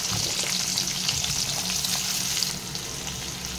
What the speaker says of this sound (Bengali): এবার আমি পেঁয়াজের কুচিটা দিয়ে দেবো।